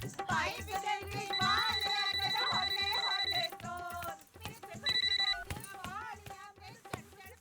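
A phone rings in a Bollywood romantic comedy film scene, a bright electronic tone sounding in two sustained bursts over background music.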